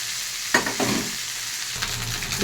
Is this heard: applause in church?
no